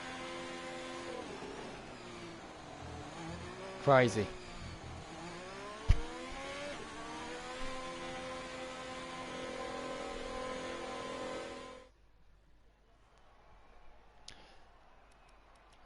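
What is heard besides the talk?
race car engine driving out on the track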